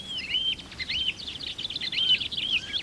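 A song thrush in the open sings mimicked phrases, including oystercatcher-like piping, as clear, thin high whistles and rapid chirping notes repeated in short bursts, moderately distant over faint background hiss.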